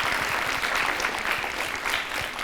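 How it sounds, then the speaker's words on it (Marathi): An audience applauds steadily, with dense, continuous clapping that stays loud and even for a couple of seconds, with no voices over it. "एकदा जोरदार टाळ्या तिच्यासाठी."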